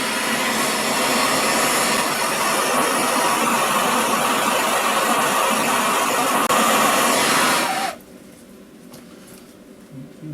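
A heat gun or torch roars steadily while heating the seized aluminium intake manifold of a Mercedes R107 450SL, a loud continuous blowing hiss that stops abruptly near the end, leaving quiet workshop noise.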